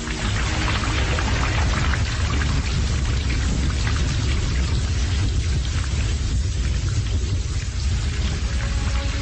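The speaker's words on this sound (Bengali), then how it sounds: "কিন্তু কিছুটা এগোতেই দারুণ বৃষ্টি এলো" Heavy rain pours down steadily, a dense, continuous hiss and patter that stays loud and even throughout, with no voices.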